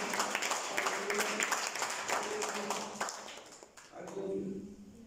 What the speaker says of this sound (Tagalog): Palakpak muli ko.